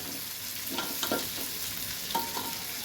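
Rice being stirred and fried in ghee for a paneer pulao, a steady soft sizzle with a few scraping stirs of a spoon through the grains, close and continuous, no voices.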